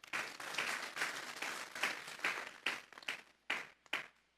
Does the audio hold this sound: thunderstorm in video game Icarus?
no